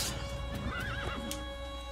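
A horse in the Assassin's Creed video game gives a single wavering neigh midway, set over steady hoof clops and a constant tonal background hum, fairly close and moderately loud.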